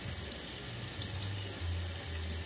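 Tap water runs steadily over juicer parts being washed at a sink, a continuous faucet stream with low rumbling under it and no talking.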